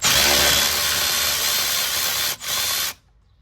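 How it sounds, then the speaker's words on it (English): A power tool with a 1/2 inch socket spins off a master brake cylinder mounting bolt on a 1995 Ford F150, a loud, close, steady whir lasting about three seconds before it cuts out. "we're gonna come in with our 1/2" Capri Tools socket, and we're gonna remove these mounting bolts"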